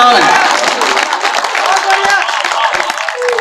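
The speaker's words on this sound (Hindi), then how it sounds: "ताली बजाओ।" Audience applause at a Hindi comedy and satire stage show, a dense, loud wash of many hands clapping at once, sustained evenly throughout.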